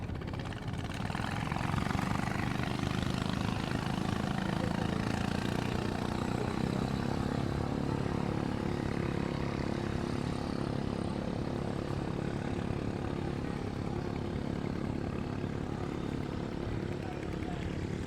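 Boat motors run steadily on Tonle Sap Lake near a floating village in Cambodia, a continuous droning engine hum filling the scene from start to finish.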